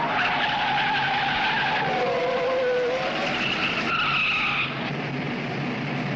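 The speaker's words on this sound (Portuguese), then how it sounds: "A freada do sargento é violenta, é um dos poucos lugares que se pode passar numa freada em Interlagos." A race car braking hard into a fast corner at the Interlagos circuit in 1973, tires squealing and skidding in a long, loud, wavering screech over a steady engine roar.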